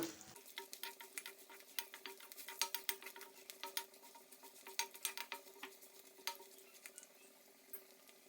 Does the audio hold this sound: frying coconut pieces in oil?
yes